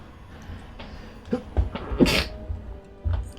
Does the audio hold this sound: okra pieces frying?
no